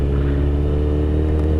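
A motorcycle fitted with a racing exhaust gives a loud, continuous, deep drone, held close and steady throughout with no talk.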